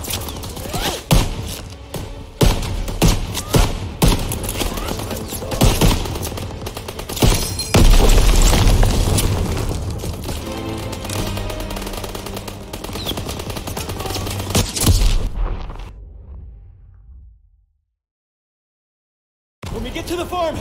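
Call of Duty WWII battle on Normandy: rapid machine gun bursts, repeated gunshots and heavy thumping explosions, loud and dense, with shouted commands over the gunfire before it fades out into a brief silence and resumes.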